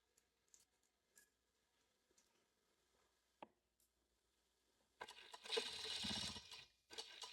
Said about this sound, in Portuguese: E eu vou ter que montar ela aqui também na minha máquina overlock